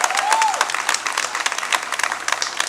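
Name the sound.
audience applause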